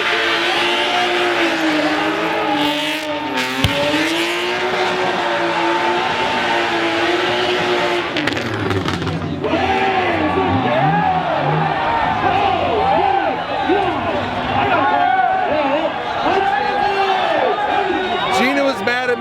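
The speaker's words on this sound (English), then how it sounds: "It's a burnout competition." Cars do burnouts and donuts at a burnout competition, engines screaming and bouncing off the rev limiter with wavering pitch and tire roar, loud and continuous with a crowd and voices underneath.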